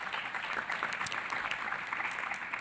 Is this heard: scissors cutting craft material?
no